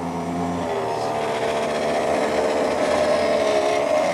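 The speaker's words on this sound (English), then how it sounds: "Notice how it lifts the wheel up, over the edge and sets it down" An Escalera electric stair-climbing hand truck hauls a cast iron wood stove, its motor whirring steadily as lifting feet raise the big wheel over a step edge and set it down, with grinding, rubbing mechanical tones throughout.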